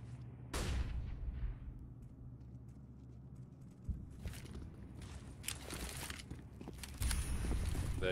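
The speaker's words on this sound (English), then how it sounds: "There you go, the smoke grenades." Counter-Strike match sounds: sharp pops of smoke grenades deploying, followed by hissing bursts and scattered footsteps and gunfire-like thuds, fairly quiet and distant, with no talk over them.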